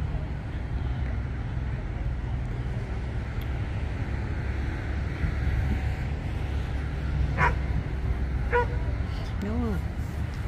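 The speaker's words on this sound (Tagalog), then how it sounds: "Yung aso maglalaro siya." A dog barking while playing outdoors among leaves and cut wood, several short sharp barks in the latter half over steady wind-like background noise, with talking nearby.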